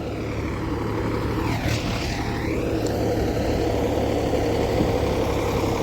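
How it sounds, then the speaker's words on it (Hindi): A tractor approaching on farmland, its steady engine drone and low, even rumble continuing throughout without a break, with no talking. "1 ट्रैक्टर और आ रहा है इधर से।"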